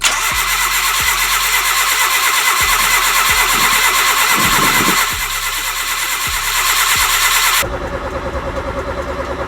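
A Honda Civic's turbocharged SOHC D15B7 engine is cranked with fuel cut to prime oil. The starter churns loudly and rhythmically for about seven seconds, then stops.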